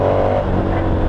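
A 2019 KTM 1290 Super Adventure touring motorcycle engine revs hard and close, a loud continuous roar held for about a second with no talk.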